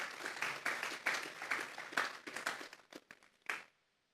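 A church congregation applauds during an evangelical sermon, a burst of many hands clapping that thins into scattered individual claps before stopping, moderately quiet and with no voices.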